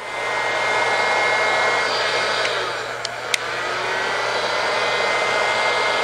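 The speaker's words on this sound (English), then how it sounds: "heat gun" A heat gun blows hot air onto modelling clay, a steady broadband rushing roar held close and loud throughout the clip, with a couple of faint clicks partway through and no talking.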